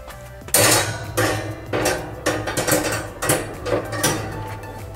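Metal grill grate set into a Kamado Joe Big Joe III ceramic grill, a series of loud close metallic clanks and rattles as the grate is lowered and settled into place.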